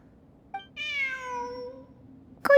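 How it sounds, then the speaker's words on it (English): A cat in the video game Genshin Impact gives a short chirp and then a drawn-out meow, close and clear against a quiet background, followed by a brief sharp sound. "Look, a cat."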